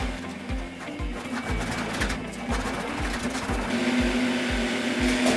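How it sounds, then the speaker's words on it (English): A power drill with a paddle mixes cement board thinset in a bucket, a steady loud motor whine under a rhythmic thumping as the paddle churns through the thick mix, with no one talking. "I'm gonna mix it for 3 minutes"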